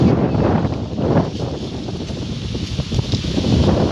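Steady wind blows across an open farm field with jamun trees. It makes a constant broadband rush with gusty swells and faint rustling, and no voices are heard.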